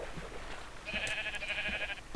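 Sheep bleating in Minecraft, one drawn-out, wavering bleat that lasts over a second and rises above a busy game background with low thumps.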